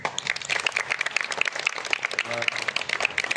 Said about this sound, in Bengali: অভিনন্দন জানিয়ে একটা সবাই হাততালি দেব